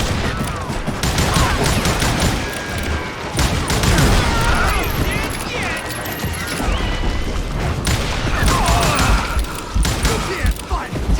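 Rapid gunfire from the Western shooter Call of Juarez: Gunslinger, loud dense volleys of shots and booms that run almost continuously, mixed with game effects and someone talking over the action.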